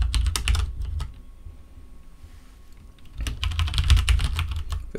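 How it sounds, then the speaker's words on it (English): A command being typed on a computer keyboard: quick clusters of close, crisp keystrokes, a short pause of near quiet, then another burst of rapid typing. "if we type in kubectl"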